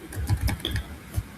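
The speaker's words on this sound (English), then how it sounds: "I'm just going to be typing random numbers" Close-up computer keyboard typing, a quick uneven run of about a dozen key taps in under two seconds, alone and fairly soft.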